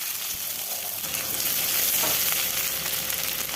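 Cut potatoes fry in oil for a tangra fish curry, giving a short, steady sizzle that is moderately quiet and close, with a small clack near the start and no one speaking.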